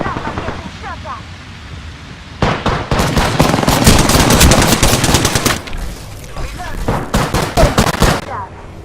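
Rapid automatic gunfire in the battle royale game Apex Legends, dense bursts of shots rattling loudly from around the two-and-a-half-second mark with short pauses between volleys, mixed with game sounds and faint voices.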